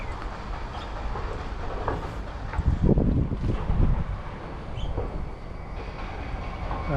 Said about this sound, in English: So that's the high-speed train